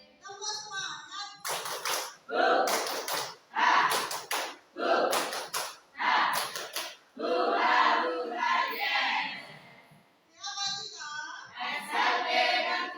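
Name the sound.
group doing a rhythmic 'tepuk semangat' clapping chant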